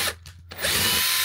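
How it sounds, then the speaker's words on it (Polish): A power drill bores a hole through a camper floor, whining up sharply after a couple of brief starts and then running at a loud, steady pitch close by. "Czyli wiertarka."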